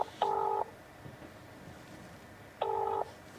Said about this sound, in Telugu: ఫోన్ చేద్దాం ఒకసారి